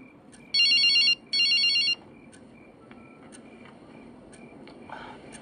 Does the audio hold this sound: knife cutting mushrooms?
no